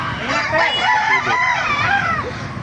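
Roosters crow at a busy market, several overlapping cock-a-doodle-doos rising and falling close by, with clucking hens and some background voices mixed in.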